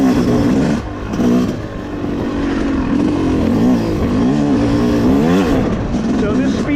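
A 2025 Yamaha YZ250X two-stroke dirt bike rides a woodland trail at the Wambaw Cycle Trail OHV area, its engine buzzing steadily close by with rising and falling revs as the throttle changes, while a voice talks over it.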